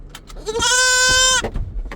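A goat lets out a single loud, wavering bleat lasting under a second, close by, with faint rustling before and after.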